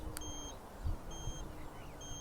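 Indicator beeps from an iScooter i10 Plus electric scooter: faint, evenly spaced high electronic bleeps repeating in a steady pattern over a noisy outdoor background.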